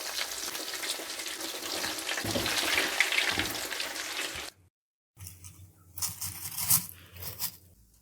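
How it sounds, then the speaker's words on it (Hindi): Potato and egg kababs frying in oil, a dense, close crackling sizzle that breaks off into a short silence and then returns in uneven bursts. "इसी तरह हम ये दूसरे भी फ्राई कर लेंगे।"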